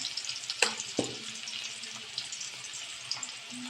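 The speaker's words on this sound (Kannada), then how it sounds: "ಸ್ವಲ್ಪ ಫ್ರೈ ಆಗಬೇಕದು. ಓಕೆ, ಫ್ರೈ ಆಗ್ತೈತಿ." Beans frying in a pan for a village-style beans palya, a soft steady sizzle with a couple of brief scraping stir sounds near the start, fairly quiet and with no talking.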